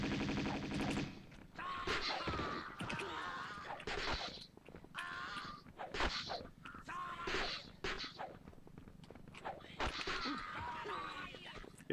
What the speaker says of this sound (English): let's go ahead and pull out our Uzis and try to help them with this fight.